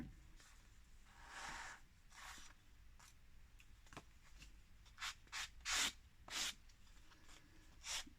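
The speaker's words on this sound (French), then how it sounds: "Petit coup de gomme, petit coup de crayon." Eraser rubbing on paper while drawing, faint close-up scrubbing strokes in short irregular bursts, growing quicker and crisper toward the end.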